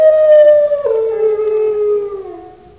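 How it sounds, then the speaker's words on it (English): A dog howls in one long, loud, sustained wail that drops in pitch partway through and fades out at the end, heard alone and close by inside a house at night. "That's no ordinary dog."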